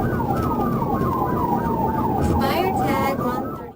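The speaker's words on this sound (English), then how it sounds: "When the police activated their lights and siren to stop the car" A police car siren wails loudly during a high-speed chase through heavy traffic, sweeping up and down continuously with road and engine noise underneath and a voice talking over it.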